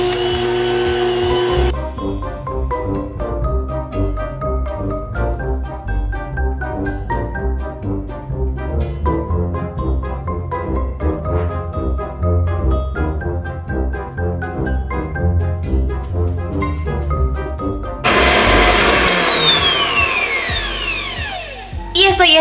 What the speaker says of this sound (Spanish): Y ahora sí, vamos a batir esto